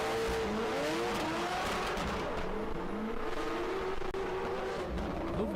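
Drift cars at an international drift championship in Oman scream through a corner with loud sustained tire squeal and revving engines, continuous and close, with no talk over it.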